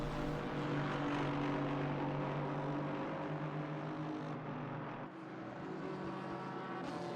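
A Mercedes-AMG race car on the Barcelona circuit gives a sustained, droning engine note on throttle, dipping briefly before rising again, with no talk over it.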